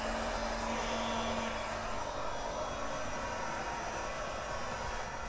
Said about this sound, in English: So I'm just going to take my heat gun.